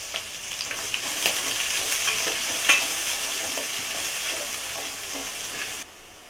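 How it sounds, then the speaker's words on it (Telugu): Onion pieces and green chillies fry in hot oil with spices for mushroom biryani, a bright crackling sizzle broken by stirring scrapes and one sharp spatter, cut off abruptly near the end. "పచ్చిమిర్చిని ఫ్రై చేసుకోవాలి"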